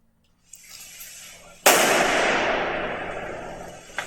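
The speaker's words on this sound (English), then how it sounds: "police resorted to throwing a grenade towards the bunker" A grenade thrown by police detonates near a bunker: a few small knocks come first, then one sudden sharp blast that decays in a long rumbling tail.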